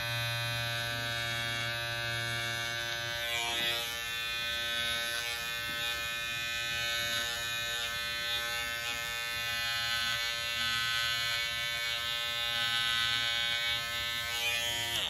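An electric carving tool shaves down the pile of a tufted rug, giving a steady, loud, high-pitched buzzing drone that runs the whole time without pause.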